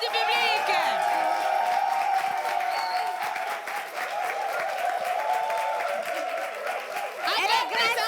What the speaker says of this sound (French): vous allez vous lever et vous allez applaudir comme il se doit